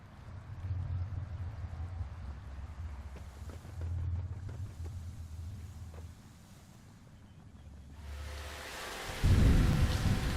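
Rain and low rolling thunder in Fallout London, deep rumbles swelling and fading under steady rainfall, then a sudden heavier burst of rain near the end.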